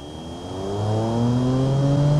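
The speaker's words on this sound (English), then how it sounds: "there's a whine that's much louder than the engine." A trike engine in the video game BeamNG drones steadily with a loud rising whine above the motor note, growing louder and holding close and alone with no talk.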